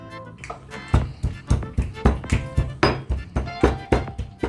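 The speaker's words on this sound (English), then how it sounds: "So chilies and garlic into the mortar and pestle." Chilies and garlic pounded in a mortar and pestle, a steady run of about a dozen close, dull thuds at an even rhythm, roughly three per second.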